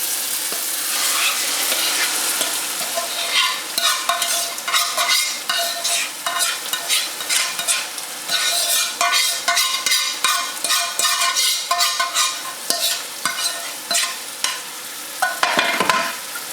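Tomatoes for Nigerian red stew fry in a pot while being stirred, giving a steady loud sizzle broken by repeated scraping strokes of the spoon throughout, with no voices.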